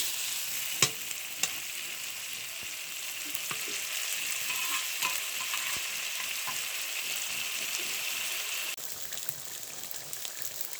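Ground spices and coriander paste frying and being stirred in a pan for a village-style egg curry, a steady close sizzle with occasional sharp clicks of a utensil against the pan.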